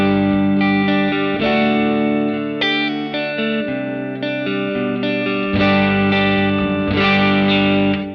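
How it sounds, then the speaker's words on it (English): Electric guitar run through an amp modeller into a guitar cabinet, sounding distorted and chorus-tinged, with sustained chords shifting every second or so, loud and dense with a thick, saturated tone. "what we're going to hear is the sound of the modeler passing through this cabinet"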